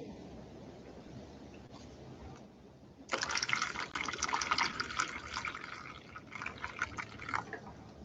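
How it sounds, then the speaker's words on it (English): Water gushes and splashes steadily out of a container being emptied while drying material, a continuous moderately loud pouring that starts partway in after a quieter stretch. "We have to empty the water."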